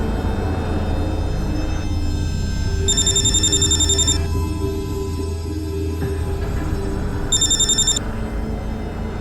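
A telephone rings in two distinct bursts of rapid trilling tones, separated by a pause, over a low background hum.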